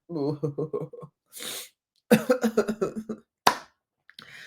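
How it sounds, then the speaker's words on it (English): A voice speaks briefly, then a sharp sneeze bursts out, followed by more speech and another short explosive burst. "I feel a sneeze coming on again"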